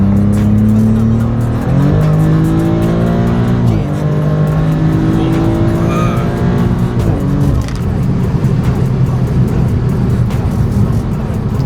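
A 2024 Maserati GranCabrio Trofeo's V8 pulls hard under heavy acceleration, loud and close. The engine note climbs steadily and drops back at each upshift before climbing again.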